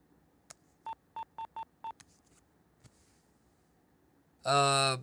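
Five evenly spaced telephone keypad tones beep in quick succession, preceded by a short click, then a brief pause before a loud burst of voice at the end.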